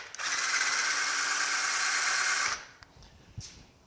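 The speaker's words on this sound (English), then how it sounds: "I'm just going to take a 1/2 inch drill bit and run it in here" A power drill with a half-inch bit whines steadily for about two and a half seconds drilling metal on an engine stand, then stops, leaving a few faint clicks and knocks.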